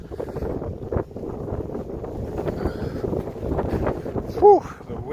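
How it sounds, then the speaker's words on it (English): Outdoor wind buffeting a microphone in Saint Petersburg, a steady rough rumble with gusts, heard under someone talking. "the wind is really getting me here"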